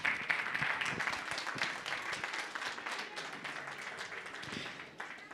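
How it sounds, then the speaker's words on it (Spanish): A church congregation at a Mother's Day service applauds, a steady wash of many hands clapping at moderate level that tapers slightly toward the end. "vamos a dar por favor fuertes aplausos"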